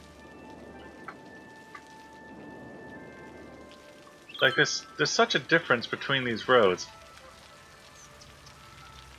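Steady rain patters across the city in Cities: Skylines, a soft, even wash of drops that runs throughout and continues beneath a burst of speech.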